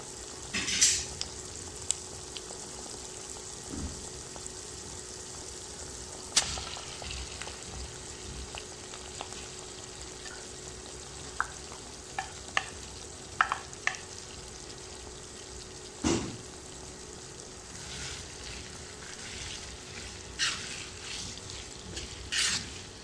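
Beef frying with onion, dried chillies and garam masala, a low steady sizzle broken by scattered clinks and scraping stirs, with a faint background hum.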